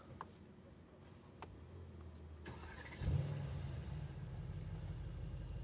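A 2024 Mercedes-AMG GT engine cranks and fires about three seconds in, a brief starter whir rising into a loud, close idle rumble that settles and holds steady, preceded by a few faint clicks inside the car.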